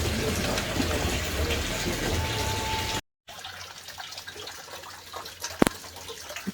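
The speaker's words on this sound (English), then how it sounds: "see how the water flows from the system" Water runs from an aquaponic fish tank into a radial flow filter, a steady broadband rush and splash that continues throughout, with a brief dropout midway and one sharp clunk near the end.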